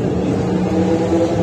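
A Chevrolet Opala's engine runs at a steady, low idle at a car meet at Interlagos, a close, even rumble with no voices over it.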